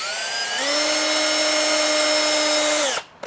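A power drill drives screws into raised garden bed timber, giving one close, loud, steady whine that holds for a little over two seconds and then stops abruptly.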